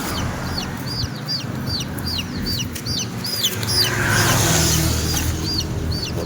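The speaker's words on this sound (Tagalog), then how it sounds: "Kaya tayo itong sisiw na to ayaw mahuli." A baby chick gives rapid, repeated high peeps over a low background rumble of farm noise. The peeps are close and continuous, with a short wind-like swell midway.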